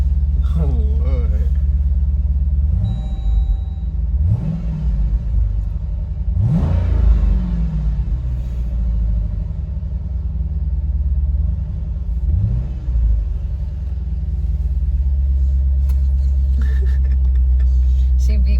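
A rebuilt 2013 Chevrolet Camaro SS V8 idling with a deep, steady rumble, punctuated by several sharp throttle blips that rise and fall, with people talking nearby over the engine.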